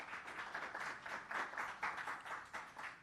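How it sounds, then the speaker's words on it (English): A modest audience claps for Dr. Blake at a Jamaican export launch ceremony, steady scattered applause at moderate distance, quite faint overall, with no voices over it. "Another round of applause for Dr. Blake."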